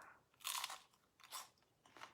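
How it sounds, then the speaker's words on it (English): A baked Egglife egg-white wrap chip, seasoned and still hot, crunched in three crisp, close bites spaced about a second apart, loud against a quiet background with no speech. "Can you hear a crunch? Really nice and crunchy."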